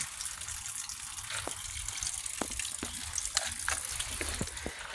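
A dragon-shaped street fountain in Shin-okubo, Tokyo pours out a steady, close gush of running water with a few brighter splashes and drips over it, and no talking.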